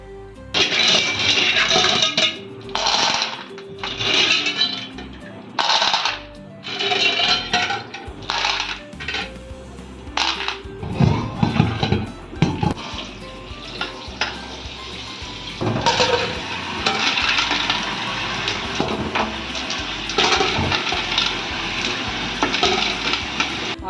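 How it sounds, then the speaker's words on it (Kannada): Clams and rice being washed in water in a home kitchen for clam pulao: repeated splashy, sloshing bursts with clattering against the vessel, close and fairly loud, then continuous swishing and rinsing, with no talking. "ಈಗ ನಾನು ಫಸ್ಟ್ ಮರುವಾಯಿ ತೊಳೆದು ತರ್ತೇನೆ ಮತ್ತು ಅಕ್ಕಿ ತೊಳಿತೇನೆ"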